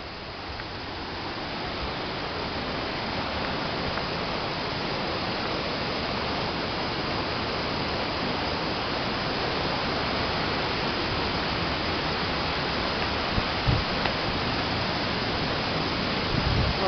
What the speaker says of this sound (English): that noise is from the waterfall.